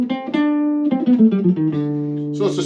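A melodic scale played note by note on a sustained, tonal instrument, here the Dorian flat 9 mode, a C melodic minor scale starting on D, heard alone and fairly loud with steadily stepping pitches and a brief noisy ending.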